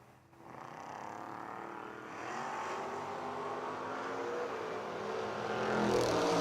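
Drag race cars, one a Camaro, launch at a footbrake bracket-racing event, their engines building from a steady roar to a louder, rising rev as they pull away, with no talk over the noise.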